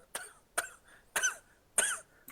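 A person gives four separate coughs at a role-playing game table, evenly spaced and fairly close, with quiet gaps between each.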